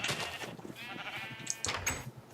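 Minecraft sheep bleating in short wavering calls, two close bursts with a pause between them, loud and near with little else around them.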